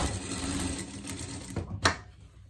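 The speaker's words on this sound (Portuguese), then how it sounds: "Passar a costura por tudo." A sewing machine runs stitching a fabric pet parka, a fast continuous mechanical whirr with rapid needle ticking, then stopping with a short sharp clack near the end.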